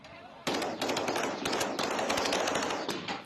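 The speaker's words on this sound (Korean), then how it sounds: "총소리가 연달아 울리고 사람들이 사방으로 흩어집니다." Rapid bursts of gunfire crackle in a Mexican village southwest of Mexico City during a shootout between gang members and residents, loud sharp reports firing in close succession over a continuous chaotic background of crowd noise.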